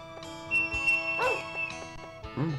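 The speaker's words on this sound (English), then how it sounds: "Dog somewhere." A dog in the Nintendo 64 farming game Harvest Moon 64 lets out a few short yips and barks over soft looping game music with chiming tones.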